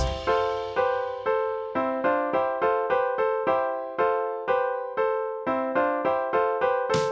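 Bright, bell-like chords struck in an uneven, lopsided 6/7 time signature rhythm, each note decaying quickly before the next, played alone with no voices.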